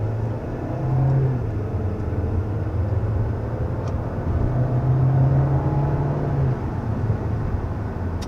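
A 2022 Volkswagen Taos with a 1.5L turbo four-cylinder accelerating, heard as a steady low engine drone and road rumble that rises and falls slightly in pitch over several seconds, with no talking.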